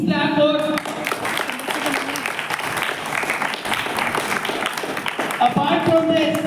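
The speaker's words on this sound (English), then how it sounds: "Please clap for." An audience at a school debate on the 2024 Lok Sabha elections, held at St Mother Teresa Public School, claps steadily and loudly in a broad wash, with voices talking over the start and end.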